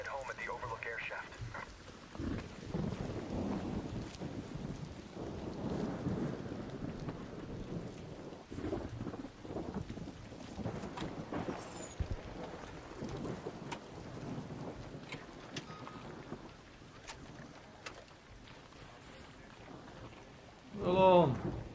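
Thunder rumbles and rain patter in a video game storm, a steady wash of rain with low rolling thunder throughout and a louder burst near the end, while a voice talks over it.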